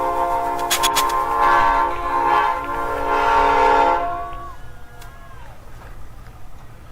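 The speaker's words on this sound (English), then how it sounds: "Give us a big honk. Let's hear the air horn on there." A loud, sustained diesel truck air horn blares for several seconds with a rich harmonic tone, then cuts off, leaving low engine rumble and a few faint squeaks.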